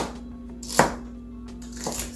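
A knife chops celery into slices on a cutting board, a couple of sparse, fairly faint thuds over a low steady hum.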